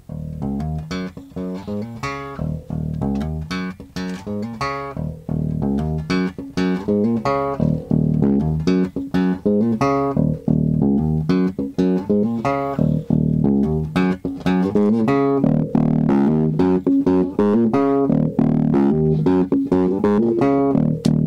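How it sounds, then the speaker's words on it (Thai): Electric bass played through an Aguilar Tone Hammer 350 bass head with the mid level turned down, a steady run of plucked notes and thumping low lines carrying on alone at a fairly loud level throughout. "บิด mid level ลงไปก่อนแล้วจะให้คุณออฟเล่นนะครับผม"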